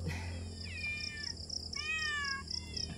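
Several cats on a rural farm meow in a run of high, overlapping cries, near and fairly loud, over a faint background hum.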